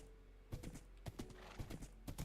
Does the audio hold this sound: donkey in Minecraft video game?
yes